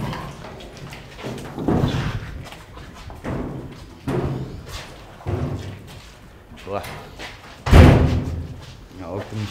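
A heavy door in the basement of a huge abandoned factory is opened with loud slams and dull thuds, the loudest bang near the end, while people talk throughout.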